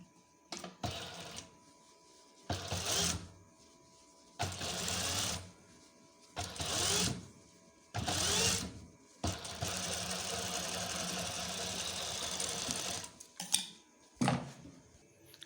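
A sewing machine stitches the panels of a frock in short close bursts separated by pauses, then runs in one longer continuous stretch before a few final quick bursts, with no talking.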